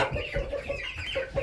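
Backyard chickens cluck in short repeated bursts, several close birds calling over one another continuously through the brief moment.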